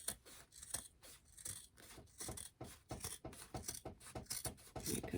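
Scissors cutting fabric for a quilted table runner: a quick series of close, quiet snipping strokes in an uneven rhythm, with rough scraping between cuts.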